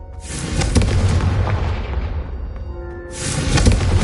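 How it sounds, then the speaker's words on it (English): A Confringo fire spell cast in Hogwarts Legacy lands as two loud, booming explosions. Each bursts with a broad roar, the first fading away over a couple of seconds before the second strikes near the end. "I think you'll find that a Confringo cast travels a bit farther than that of a spell like Incendio."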